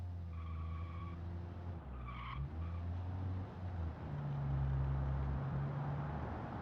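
A simulated SUV in the Automation car game, with a 2-liter engine of about 130 horsepower, locking differentials and an automatic transmission, hums along the road with steady engine tones that shift pitch as it goes, plus a brief tire squeal.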